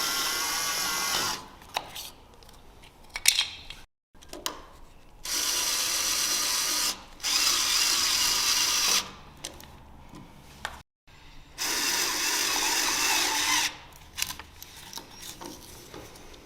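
A Wiha SpeedE electric screwdriver runs in motor mode in steady whirring bursts of a few seconds each, separated by short pauses and clicks, close and fairly loud.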